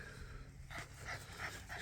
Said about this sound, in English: Now I've got somebody coming with a dog.